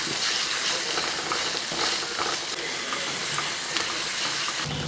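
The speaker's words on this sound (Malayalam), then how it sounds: "അതുകൂടെ എല്ലാം കൂടെ അങ്ങോട്ട് ഇട്ട് കൊടുക്കുക ഇതെല്ലാം ഒന്ന് നല്ലപോലെ ഒന്ന് വഴറ്റിയെടുക്കും" Finely chopped onion sautéing in a pan for upma, a steady close sizzle and crackle with occasional stirring scrapes running throughout, no voices.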